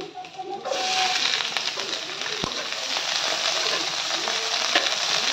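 Green chilies, garlic and onion fry in oil in a home kitchen pan, a steady hissing sizzle that jumps up as they drop in and holds at a moderate level, with faint background sounds.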